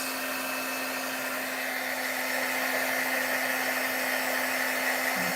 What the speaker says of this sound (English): Now I'm going to unplug my heat gun right now so that I don't forget.